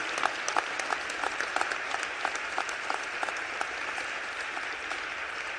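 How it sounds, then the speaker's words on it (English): Steady, enthusiastic applause fills a legislative chamber at a speaker's swearing-in ceremony, a dense wash of many hands clapping continuously with crisp individual claps popping out throughout. "So I want you all to give my wife a round of applause"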